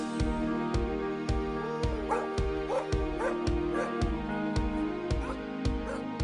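A purebred border collie puppy barks in a steady run of short, sharp yips, with high whimpering whines rising between them, close and fairly quiet.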